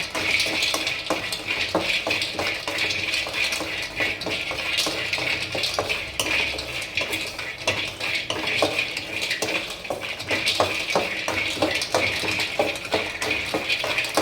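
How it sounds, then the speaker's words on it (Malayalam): Rice dry-roasts in a pan, stirred with a utensil: a steady run of scraping, rattling strokes over a soft sizzle, close up and moderately quiet, with no talking. "അരി സെപ്പറേറ്റ് ആയിട്ട് ഇതൊന്ന് മൂത്ത് വരണം."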